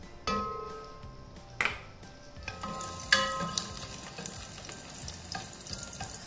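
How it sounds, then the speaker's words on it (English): Garlic drops into hot annatto oil with a sharp sizzle, and bright frying crackle continues in bursts as a utensil clinks and stirs it in a pan, close and alone with no voices. "And then we add in our garlic."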